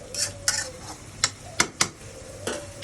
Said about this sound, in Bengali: এবার এই চিংড়ি মাছটা আমি আবার নেড়ে চেড়ে ঢেকে দেবো